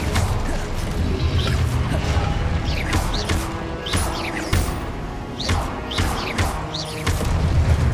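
An Incendio fire spell cast in the game Hogwarts Legacy, a run of crunching, whooshing magical blasts and impacts layered over one another, loud and busy with repeated sharp bursts across the stretch.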